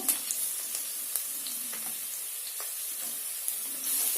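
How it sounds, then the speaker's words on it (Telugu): Three or four finely chopped onions frying in a pan for egg curry hiss with a steady close sizzle, punctuated by light ticks and scrapes of stirring, with no voices. "ఇప్పుడు దీంట్లోకి ఒక మూడు నాలుగు మనం వెల్ ఉల్లిపాయలు సన్నగా తరిగినవి వేసుకుందాము"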